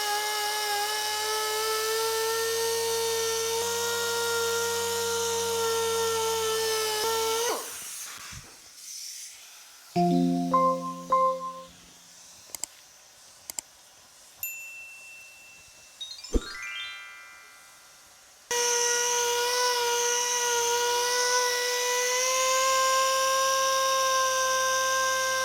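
A power polisher works on a chip repair in the paint of a 1950 Chevy truck, a steady whining drone with strong tonal harmonics. It cuts out midway for a stretch of clicks and short beeps, then resumes just as steady.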